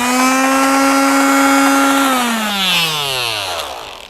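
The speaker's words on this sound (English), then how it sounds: "My hand sander actually got wet the other day, so hopefully it still works" An electric hand sander that recently got wet whirs at a steady high pitch, then winds down as the motor slows, loud and close.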